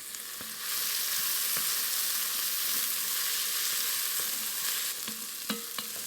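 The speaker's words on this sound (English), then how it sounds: "going to saute that a little bit to soften them up" Vegetables sautéing in a pot to soften: a steady close sizzle and hiss of frying, with a few light clinks and taps of stirring utensils near the end, no talking.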